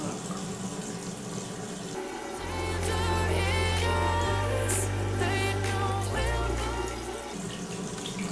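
Water runs from a tap into a hand during a face cleanser demonstration, a steady rushing stream heard over background music with faint tonal shifts.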